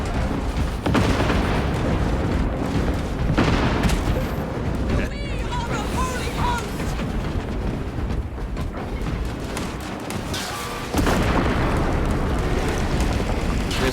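Bolt rifle grenade launcher firing in Space Marine 2, heavy repeated explosions and gunfire thudding through a loud battlefield mix, with voices talking over the combat.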